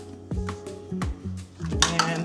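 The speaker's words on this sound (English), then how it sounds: "all I do is I stir this together" Flour, milk and sugar being stirred together in a bowl, a utensil knocking and scraping against the sides in a few uneven clinks and rubs, close by.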